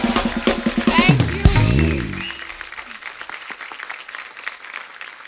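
A studio audience on a Hindi comedy talk show bursts into loud, sustained applause and cheering as actress Deepika Padukone walks on, the clapping swelling early with music underneath, then settling into a steady patter.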